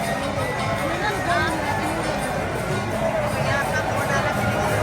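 A large crowd of devotees waits in Vrindavan-style throngs for Premanand Maharaj, giving a dense, continuous murmur of many voices at close range with nearby talking mixed in.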